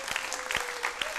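Brief burst of audience applause, a dense wash of clapping hands heard quietly and somewhat distant for about a second.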